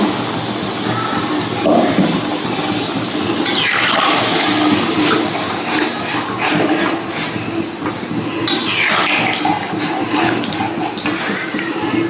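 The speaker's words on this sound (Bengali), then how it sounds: "মিক্সি ধোয়া জলটা দিয়ে দিলাম" Water used to rinse a mixer grinder is poured into a cooking pot holding potatoes and chicken in a home kitchen, a steady, close rushing splash that carries on for several seconds with no voices.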